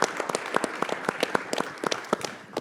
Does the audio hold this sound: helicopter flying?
no